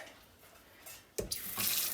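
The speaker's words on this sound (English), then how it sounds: "Just run it under some warmish water." Quiet room, then a tap suddenly turns on and warm water gushes over an anodized aluminum mountain bike part, splashing and hissing loudly and steadily.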